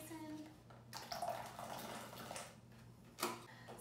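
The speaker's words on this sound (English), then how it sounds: "And then I'll pour my blueberries in." Blueberries tipped into a bowl of water mixed with a capful of wash, giving a soft splashing rush that swells near the middle and ends with a brief sharper splash, close and moderately quiet.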